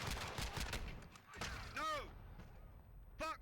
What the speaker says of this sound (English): Watch this gunshot.